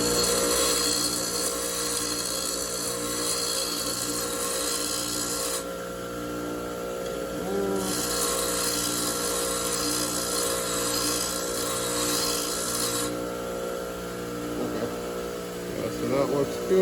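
A grinder works a lathe tool bit in a continuous, loud abrasive rasp with a running motor hum, the grinding tone shifting as pressure eases and returns in several stretches.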